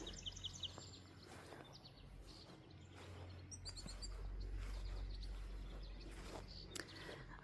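Birds sing in a Minnesota summer meadow on a breezy, clear day: scattered chirps and short high calls repeat at a moderate distance, with a soft steady outdoor hum underneath.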